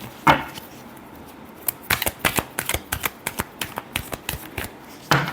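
Tarot cards being shuffled during a love reading, a run of crisp riffling flicks and slaps in quick irregular rhythm, close and clear with no talking.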